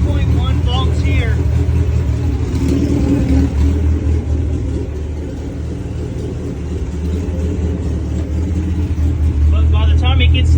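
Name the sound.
Honda Civic with H22 engine running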